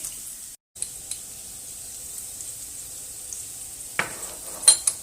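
Turmeric goes into hot oil already frying spices for rice, giving a steady, soft sizzling hiss with a few sharp pops and a brief stirring scrape near the end, fairly close, with no voices.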